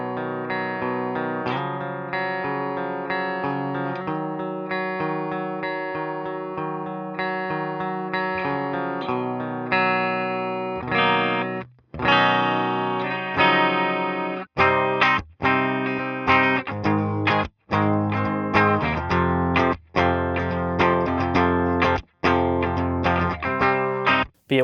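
Distorted electric guitar through a ToneX ToneNet amp capture, loud and sustained, with chugging chords and ringing notes, then sharp stop-start riffing with brief gaps in the second half.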